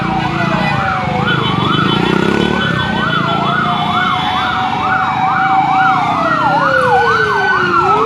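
A loud fire truck siren wails continuously nearby at a fire in Pasay, cycling through rapid rising and falling tones over the rumble of traffic.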